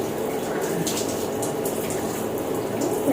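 Tap water runs steadily during a bath, a constant close splashing rush with no pauses.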